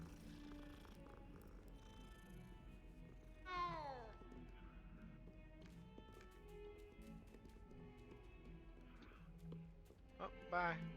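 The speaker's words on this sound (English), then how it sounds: "Hello, kitty cat" A cat meows in the video game Hogwarts Legacy, with brief rising calls standing out twice over a steady bed of game ambience and music, while a person talks over it.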